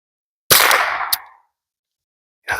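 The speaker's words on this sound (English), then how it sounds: "Let me just shoot a couple in the ground, see where we're hitting." A .22LR AR conversion rifle fires into the ground, giving one loud, close crack whose ring dies away over about a second, followed by the sharp onset of another shot.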